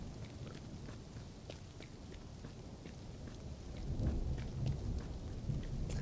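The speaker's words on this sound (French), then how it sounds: "C'est le même orage que dans Zelda." Steady rain pours with deep rolling thunder in the video game Investigator, a continuous thunderstorm that swells louder toward the end, with no talking.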